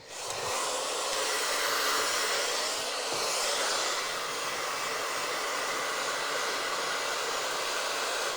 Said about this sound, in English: kind of working that swirl with the blow dryer like this